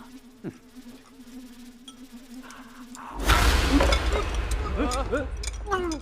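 A fly buzzes faintly nearby with a steady drone, then a sudden burst of clattering noise and voices takes over.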